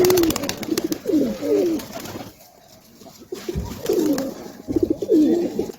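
Domestic pigeons, including a local desi bird, coo close by in throaty rolling phrases, two bursts, a short quiet gap, then two more.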